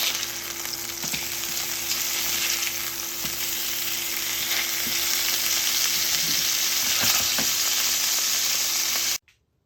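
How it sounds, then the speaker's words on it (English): Beef patties sizzle and crackle steadily in a hot pan, with occasional pops and a faint hum underneath, before the sound cuts off abruptly at the end. "While the patties are frying,"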